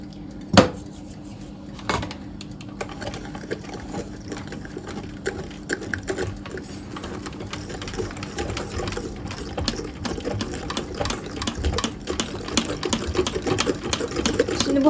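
Cake batter with flour, baking powder and cocoa is beaten in a home kitchen with a steady, close, buzzing whir that runs continuously and grows slightly louder, with a couple of clanks near the start.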